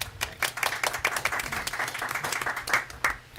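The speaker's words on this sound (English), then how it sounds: "Don't clap yet." A small audience at a school board meeting claps for a few seconds, the separate hand claps audible and fairly close, steady but not thunderous.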